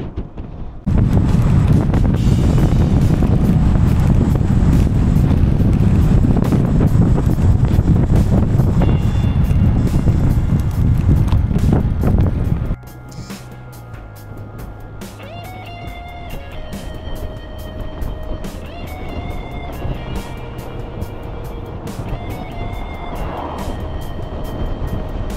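Loud, steady wind roars and buffets the microphone on the Transalpina mountain road for about half the clip, then drops to a quieter, calmer outdoor background.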